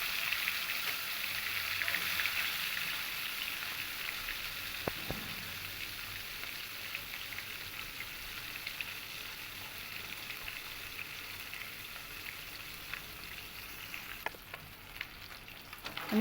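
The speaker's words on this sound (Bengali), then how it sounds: "ভেতরেই আমি মাছগুলোকে একটু লাল করে ভাজা করে নেব" Katla fish pieces fry in hot oil in a pan, a steady close sizzle and crackle that holds evenly for a long stretch with a couple of soft clinks and no talking.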